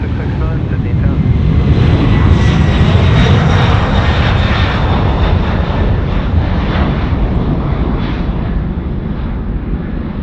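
Airliner passing at Sydney Airport at night, a loud continuous roar of engines that swells and slowly fades over several seconds, close and dominant, with voices faintly underneath.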